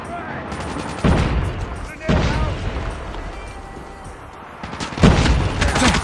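Grenade blasts and gunfire in a competitive online shooter match, sharp loud booms hitting about every second or three amid continuous shooting, with players shouting over the action.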